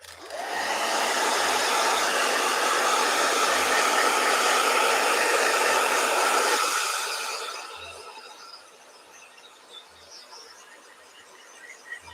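A blow dryer runs loud and steady for about seven seconds, then cuts off, leaving a quiet room with faint scattered sounds.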